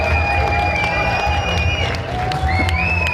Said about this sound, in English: just listen to the energy of this crowd waiting for him to start